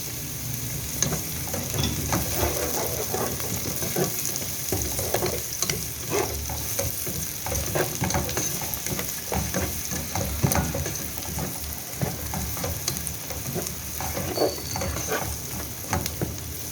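Garlic and lightly browned onion sauté in a little oil in a pan for keema karela, a steady close sizzle with frequent stirring scrapes throughout, no voices.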